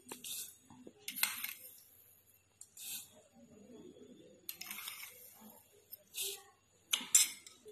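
A spoon stirs hot milk and sugar in a pot for jackfruit ice cream, giving intermittent bright metallic scrapes and clinks in bursts, with a person speaking between them.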